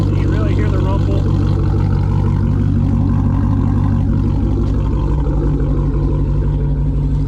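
A 2011 Chevy Camaro SS with a V8 engine idles nearby, its deep, steady rumble running loud and unbroken throughout, with a person talking over it.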